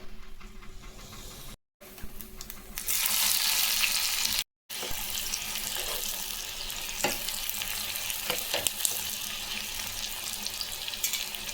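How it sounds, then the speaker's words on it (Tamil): Tempering spices for an eggplant masiyal crackle and sizzle loudly in a hot pan, a dense close frying hiss with sharp pops, briefly interrupted near the start, then continuing steadily. "இப்போது ஒரு தாளிப்பு ஒன்று போட்டுடலாங்க."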